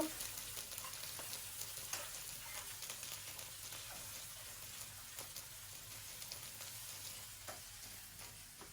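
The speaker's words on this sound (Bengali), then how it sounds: "এখন আমি চিংড়ি মাছ দিয়ে পেঁয়াজগুলো একটু লাল লাল করে ভেজে নিব" Onions and shrimp frying in a pan for a bitter gourd dish, a steady close sizzle with occasional stirring clicks and no voices.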